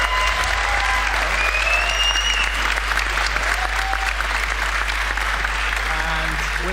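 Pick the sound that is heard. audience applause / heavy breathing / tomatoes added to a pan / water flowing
audience applause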